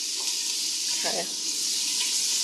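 Garlic and onion sautéing in a pan for a Sunday sauce, a steady bright sizzle holding at an even level with a brief louder crackle partway through.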